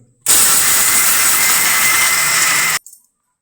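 Mixer grinder coarsely grinding a small batch of ingredients for laddus, a loud, steady whirring hiss running about two and a half seconds before cutting off abruptly, with a brief clatter after.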